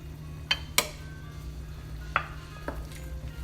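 A utensil scrapes and taps around a pan as a shrimp sauce with cornstarch and lemon juice is stirred, producing a few sharp clinks over a low steady hum, fairly quiet and without talk.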